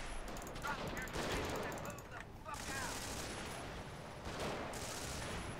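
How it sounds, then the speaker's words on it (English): A .50 cal machine gun firing in the Company of Heroes video game, heard as dense bursts of rapid gunfire amid a noisy battle soundscape, with a voice talking over it. "Come on, 50 cal. Let's start firing."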